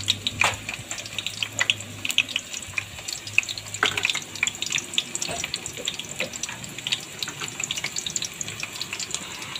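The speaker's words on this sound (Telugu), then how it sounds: "ఇట్లా ఆయిల్ వేడైన తర్వాత దీంట్లోకి కట్ చేసిన ఆనియన్స్," Chopped onions dropped into hot oil for street-style meal maker fried rice sizzle and crackle steadily throughout, a continuous hissing spatter with scattered sharp pops and no talk.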